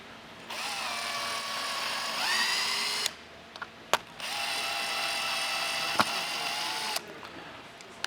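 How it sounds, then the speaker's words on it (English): A power driver drives screws into pre-drilled holes to fix a slider on an operable wall panel, with two long whirring bursts that shift in pitch, separated by short gaps with clicks and knocks. "we hook over one panel and then we screw into the holes that are already pre-drilled for us"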